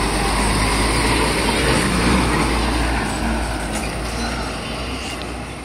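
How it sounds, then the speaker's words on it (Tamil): Vehicle passing along a forest road in the Western Ghats hills, a loud steady engine rumble and road roar that stays close throughout and eases slightly toward the end. "இப்போ ஒரு வண்டி போகுது பாருங்க."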